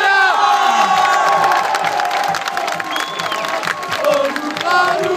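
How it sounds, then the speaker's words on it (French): A crowd cheers and applauds for player number 34, Onur Kaya, at a fan day for the Sporting Charleroi football club. The cheering is loud and continuous, with shouts and whoops rising throughout. "Les applaudissements pour le numéro 34, Onur Kaya."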